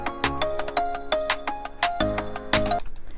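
A programmed reggaeton-style trap drum pattern built in FL Studio, with punchy kicks, crisp snares and bright percussive hits in a steady syncopated loop, loud and alone without any voice.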